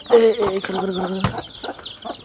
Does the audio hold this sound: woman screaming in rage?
no